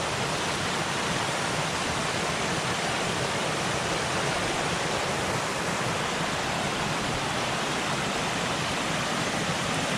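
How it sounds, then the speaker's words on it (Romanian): Water rushes loudly and continuously through a mountain canyon on the 7 Scari trail, a dense, steady roar close by, with no talk over it. "se aude mai puternic apa aici"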